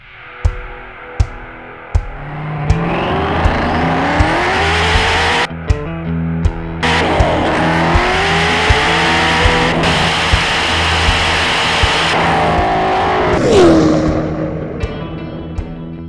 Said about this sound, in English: the fastest production car in the world, the Venom GT